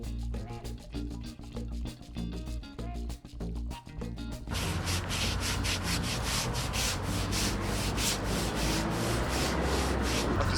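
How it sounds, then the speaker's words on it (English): Steady, loud abrasive scraping of hand sanding on a hull surface, starting with rhythmic strokes and then becoming a continuous, harsh rubbing that fills the clip. "So I've just been sanding a few spots"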